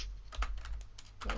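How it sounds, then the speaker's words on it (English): A computer keyboard is used to type commands for the game King's Quest 1, with a quick burst of about half a dozen sharp, close key clicks in an uneven rhythm and no voice. "I was too slow with my typing to check with her."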